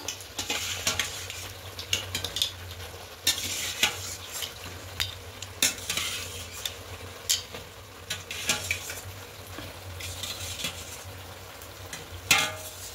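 Paneer with peas and sugar being stirred in a frying pan, with a spoon scraping and clinking against the pan in irregular strokes over a soft, continuous sizzle, close and clear, with no talking.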